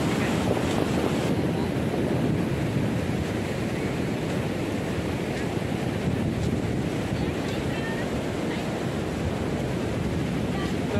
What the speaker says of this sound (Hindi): पानी का लहर बहुत बड़ा बड़ा है